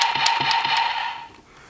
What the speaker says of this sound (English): you can press the trigger for a basic shooting sound